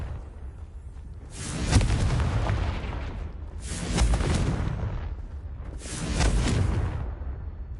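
Three heavy explosive blasts of the Confringo fire spell in Hogwarts Legacy, each a loud booming burst that rumbles on for a second or two before fading, spaced about two seconds apart.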